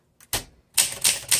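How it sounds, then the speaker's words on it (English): Keys on a 1960 Olympia SM4 manual typewriter strike in a short burst of about five crisp, sharp clacks with slightly uneven spacing, close and clear against silence. "Let's go ahead and do some typing."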